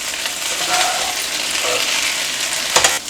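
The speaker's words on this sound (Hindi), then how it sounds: "और इसमें हम मक्खन डाल के पास्ता भूनेंगे।" Pasta toasting in melted butter in a pan gives a steady, close sizzling hiss that runs unbroken throughout, with slight stirring scrapes and no talking.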